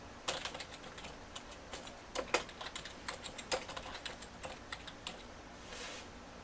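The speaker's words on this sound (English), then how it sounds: "Going to it, typing this in." Fingers tap on a computer keyboard, a steady patter of light, quick keystrokes with occasional louder presses, heard close and alone over faint room hiss.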